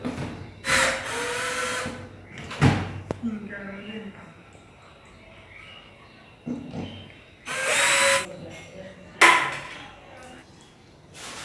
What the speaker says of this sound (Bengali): তারপর এখানে 2টি স্ক্রু দিয়ে আটকে দিতে হবে।